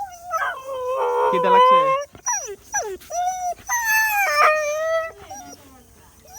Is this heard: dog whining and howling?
yes